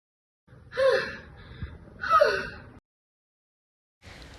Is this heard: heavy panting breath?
yes